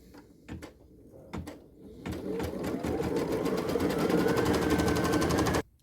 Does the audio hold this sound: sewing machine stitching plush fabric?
yes